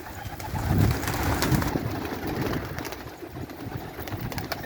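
Pigeons coo on a sunny evening in a small flock, giving soft repeated throaty calls over light background rustle, fairly close, with no talking.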